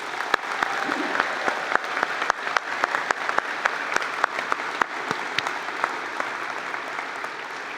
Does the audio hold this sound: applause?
yes